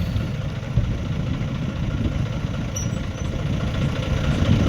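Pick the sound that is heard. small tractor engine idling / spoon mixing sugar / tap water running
small tractor engine idling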